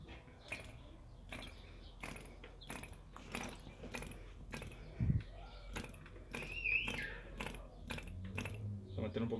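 A model airplane diesel engine being cranked by hand to start, a quiet run of rapid repeated mechanical clicks and flicks in an uneven rhythm, with a voice talking faintly under it.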